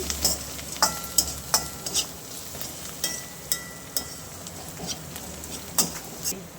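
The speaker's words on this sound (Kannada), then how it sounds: "ಇದೆಲ್ಲ ಚೆನ್ನಾಗಿ ಈ ಥರ ಫ್ರೈ ಮಾಡ್ಕೊಳ್ಳೋಣ" Kashmiri chili powder and spices fry in a pan, a soft sizzle under a series of sharp spatula taps and scrapes about every half second, close up, with no speech.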